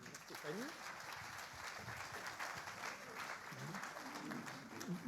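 Faint, steady applause from an audience at a French awards evening, a continuous wash of clapping with murmured voices underneath.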